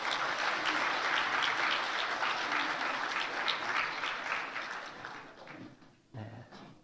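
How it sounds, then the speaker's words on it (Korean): Congregation at a church worship service applauds steadily, a dense wash of clapping that gradually thins and fades out near the end. "박수로 축하하겠습니다."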